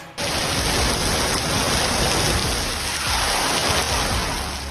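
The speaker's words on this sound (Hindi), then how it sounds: "जहां एक तरफ बारिश हो रही है" Steady, loud rain pours down outdoors as a dense, continuous hiss that fills the whole stretch with no voices.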